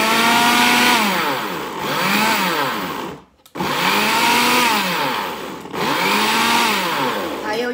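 A blender struggles with a spinach and apple smoothie because an apple is wedged against the blade. Its loud motor whine rises and falls in repeated surges, with one brief cut-off in the middle.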